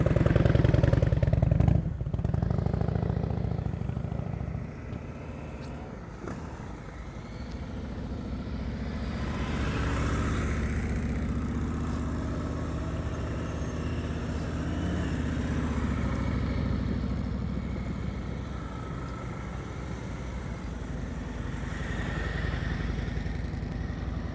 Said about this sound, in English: Listen to that throttle. Give me more, please.